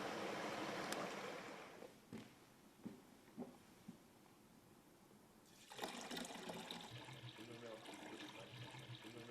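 Water gurgles and splashes as it drains from a vessel, with a few short drips and clunks before a fuller, steady rush of flowing water picks up near the end.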